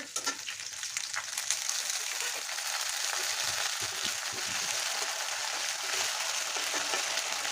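Ginger paste and browned garlic frying in oil in a pan, a dense, continuous close sizzle with occasional stirring scrapes, steady and fairly loud throughout.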